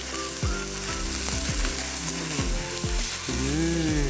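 Smoked beef and grated onion frying in a pan, a loud, dense, close sizzle that carries steadily throughout, with sliding tonal squeaks layered over it and no one speaking.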